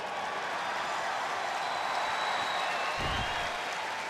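A crowd in a WWE wrestling video game's Raw show applauds and cheers steadily throughout, dense clapping with a brief low thump near the end.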